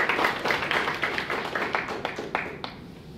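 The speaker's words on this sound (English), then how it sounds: "Give yourself a big round of applause." A small group clapping after a first speech at a speaking evaluation meeting, brisk claps that thin out and fade to a few last scattered ones by the end.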